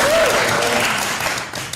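A crowd at a livestreamed rally-style event applauds steadily, a dense wash of clapping that holds for nearly two seconds, with a brief tonal sweep near the start.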